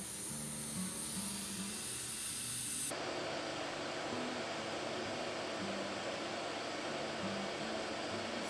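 A gas torch roars with a steady breathy hiss while heating a jewellery ring, close and continuous, its tone shifting abruptly partway through as the flame changes.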